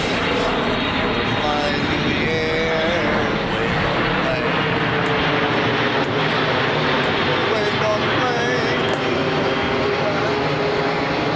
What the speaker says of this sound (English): You're waiting on the plane.